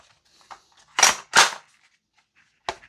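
A VFC G36C V2 gas blowback airsoft rifle fires three sharp, close shots: two in quick succession, then a third after a pause.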